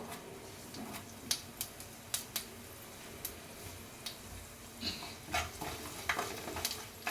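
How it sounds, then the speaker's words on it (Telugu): Cumin seeds and urad dal fry in oil for a coconut gongura chutney tempering, a low steady sizzle broken by sharp spoon taps and scraping stirs against the pan, close but fairly quiet. "జీలకర్ర మినపప్పు కూడా ఫ్రై అయిపోయినాయండి"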